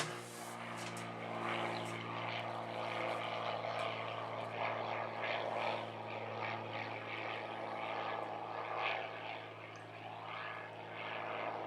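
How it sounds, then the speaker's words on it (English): A propeller airplane drones overhead, a loud steady engine hum that swells slightly and lingers throughout, with no talking. "Wait for the airplane."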